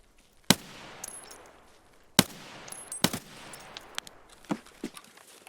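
AK-74M rifle shots in Escape From Tarkov, several sharp, loud single reports spaced unevenly apart, with fainter distant pops and small clicks between them.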